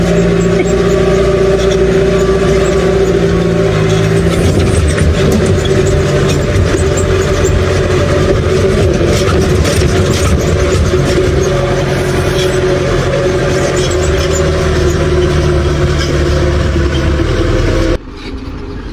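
A JCB machine's engine running on a farm, a loud, steady, close mechanical rumble with constant droning tones that drops off abruptly just before the end, with no talking.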